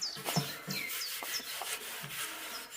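Gentle hand rubbing on an old riveted copper log basket, repeated close scraping and rubbing strokes in an uneven rhythm, with faint bird chirps in the background and no speech.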